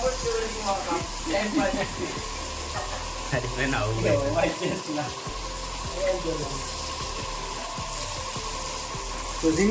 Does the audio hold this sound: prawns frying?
yes